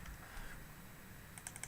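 A short burst of computer keyboard typing entering a folder name, a few quick key clicks toward the end over a quiet background.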